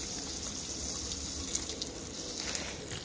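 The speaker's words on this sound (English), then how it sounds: "So we're just gonna kind of do a spray down of everything." A steady rush of water sprays down garden plants, including succulents, as a continuous hiss with no pauses and no talking.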